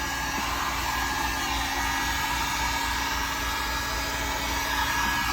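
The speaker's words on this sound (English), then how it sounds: "I'm just gonna take this heat gun and just heat up the whole piece up" A heat gun blows steadily and loudly, heating a BMW E46 car interior trim piece; the constant whooshing airflow hum runs unbroken throughout, with no talking.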